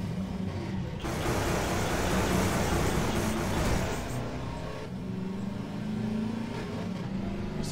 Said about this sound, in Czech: Můžu tam moc jezdit autem?